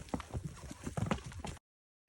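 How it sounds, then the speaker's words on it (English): A horse's hooves plod on a muddy, rain-soaked trail in Guatemala's Petén, a close run of soft, squelching clip-clops in an uneven walking rhythm that stops abruptly. "I'm riding the horse today the second time."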